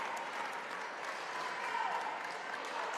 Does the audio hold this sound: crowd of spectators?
yes